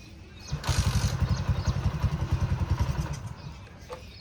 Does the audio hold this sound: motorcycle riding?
yes